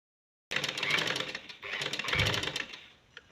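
A sewing machine stitches a fabric strip along the very edge of a side slit and hem. It runs in two steady, buzzing bursts close by, with a short pause between them, then stops.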